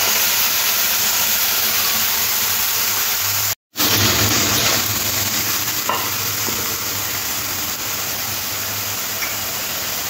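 Mustard, chili and tomato spice paste hitting hot oil in a pan for a pabda fish curry with eggplant, frying with a loud steady sizzle and hiss throughout, broken by one brief gap, with some stirring.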